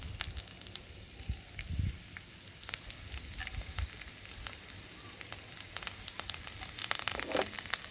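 Four cloves of finely chopped garlic sauté in hot ghee with spices for a creamy chicken korma, making a steady, fairly quiet crackling sizzle with light scraping ticks throughout.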